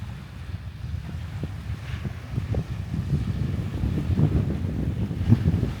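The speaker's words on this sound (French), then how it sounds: "Ouais, un peu de vent." Outdoor wind buffeting a microphone by the sea in New Caledonia, a steady low rumbling roar that swells and gusts throughout, with no voices.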